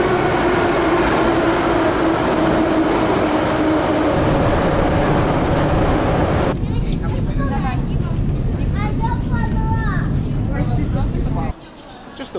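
A Russian train station with a train rumbling steadily close by. About halfway through, the rumble gives way to squealing, tonal metallic sounds and echoing hall noise before it quietens abruptly near the end, with muffled voices in the background.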